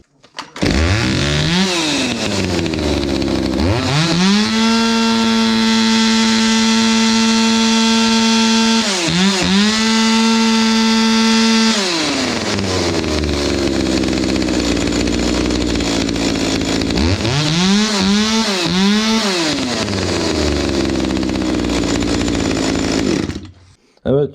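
A Husqvarna 61 chainsaw with a freshly adjusted carburetor runs loud and close, revving hard in three bursts that climb to a sustained high whine before dropping back to idle, with no talk over it.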